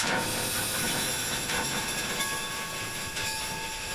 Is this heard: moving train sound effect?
yes